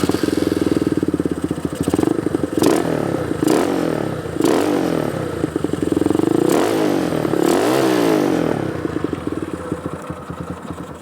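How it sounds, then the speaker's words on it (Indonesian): A Yamaha Scorpio motorcycle fitted with a PE 28 carburetor, built as a scrambler, revs loudly and close up, with repeated sharp throttle blips rising over a rough, clattering idle and no talking. "Nah, itu suara dari Yamaha Scorpio ini."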